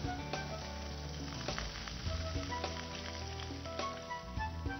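Garlic sauce with water cooks in a pan, giving a continuous, fairly loud sizzle and bubbling that holds steady throughout.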